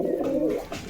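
A pair of pigeons, one white and one black, coo in a single low, rolling call that swells and then fades, close by and clear, with no talk over it.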